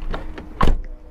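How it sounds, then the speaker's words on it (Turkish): A used car's door shuts at an outdoor second-hand car market, making one solid, close thunk after a couple of fainter handling knocks, then quiet. "kapı kapanması fena değil gibi"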